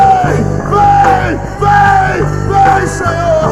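A church congregation cries out together in loud, desperate shouts during fervent worship, the wailing voices rising and falling in long waves over steady music.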